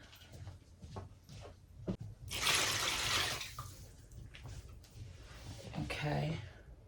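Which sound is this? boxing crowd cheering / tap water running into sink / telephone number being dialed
tap water running into sink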